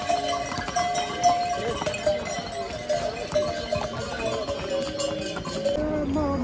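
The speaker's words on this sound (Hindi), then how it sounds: "बोला था ना जानदार घोड़े हैं" Horses on the snowy Kedarnath trail in Uttarakhand give a steady, close clatter of hooves. The beat runs through the whole clip alongside jingling bells and a busy crowd murmur.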